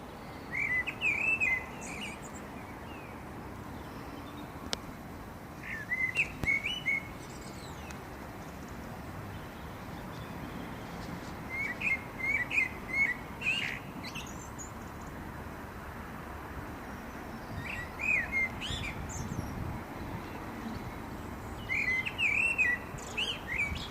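A blackbird sings at dusk over an allotment in late March, its fluting phrases coming in repeated bursts every few seconds against a soft, steady background hush.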